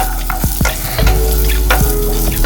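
Coconut and tamarind roast in a hot pan with a loud, close sizzle, broken by a few sharp scraping stirs of a spatula against the metal.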